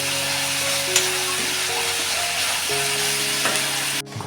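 Onion, garlic and green chilli frying in a pan for a drumstick-leaf vegetable dish, a steady crackling sizzle close by with a faint tonal hum underneath and a few stirring clicks, ending abruptly.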